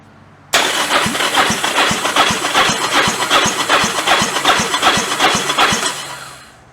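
A Yamaha Virago motorcycle engine cranks with the spark plug out for a rear-cylinder compression test, giving an even, rapid chugging rhythm with a hissing wash on top. It is loud and close, then slows as the cranking stops.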